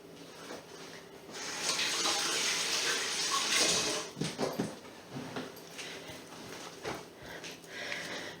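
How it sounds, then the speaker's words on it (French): Tap water runs into a kitchen sink as hands are washed while potatoes are being stuffed, a steady close rush for about four seconds, then breaking into splashes and fainter trickles. "Je me lave les mains, je reviens."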